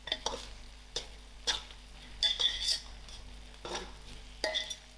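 A spoon stirs cayenne pepper and other spices through a pan, giving a few soft scrapes and taps against the metal at an uneven pace, quiet and close, with a faint low sizzle underneath.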